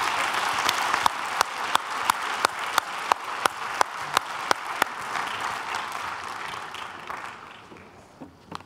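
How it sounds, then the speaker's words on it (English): An assembly plenary audience gives a round of applause that starts full and dense and gradually fades, with a series of sharp, evenly spaced loud claps standing out near the front before the room quiets. "Let's give them a round of applause and then lunch."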